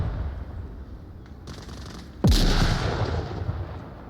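Gunfire rings out in the VR shooter Onward during a competitive league match: a few faint distant shots, then one loud, close report with a lingering rumble.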